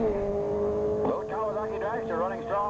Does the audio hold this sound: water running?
no